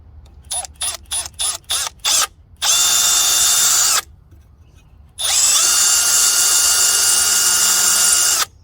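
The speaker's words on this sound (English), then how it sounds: "now let's see if my drill bit will bite" A power drill whirs in several short bursts, then runs in two long sustained high-pitched stretches with a brief pause between, close to the microphone, as its bit drills into a broken bolt.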